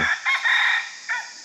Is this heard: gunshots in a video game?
no